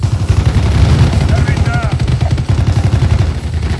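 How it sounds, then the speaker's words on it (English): Rapid helicopter machine-gun fire in Call of Duty: Black Ops, a dense continuous rattle of close, loud bursts with a speaking voice over it. "There's a helicopter out there shooting at us."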